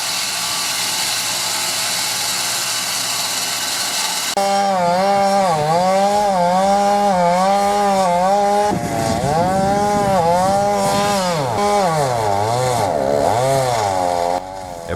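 A WM1000 chainsaw mill cuts through a large, dense eucalyptus log, the engine roaring loud and close from the start, then rising and dipping in pitch as it bogs and strains through the hard wood, with no talking.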